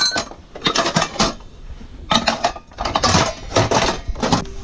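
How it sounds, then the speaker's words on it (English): Stainless steel pots and pans made in the USA being handled at an auction find: repeated metallic clinks and clatters in several bursts with short gaps, close and moderately loud, no talking. "Pots and pans, paid a couple bucks for these."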